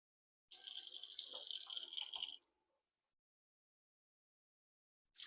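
Lukewarm water pours steadily for about two seconds into a KitchenAid mixer bowl for bread dough, then stops, leaving quiet; a brief sound returns at the very end.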